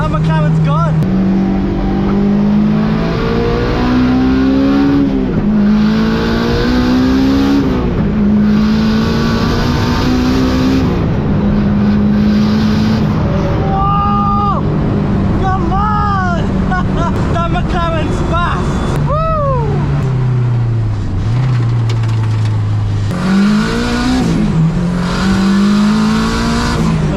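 Engines rev hard from inside a car as an old Honda Civic races a McLaren supercar, loud climbing drones with gear shifts breaking the pitch, while people talk excitedly over the noise.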